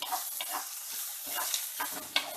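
Okra pieces fry in a pan with salt and turmeric and are stirred now and then. A steady close sizzle runs underneath, broken by scraping stir strokes and a sharp clink near the end, with no one speaking.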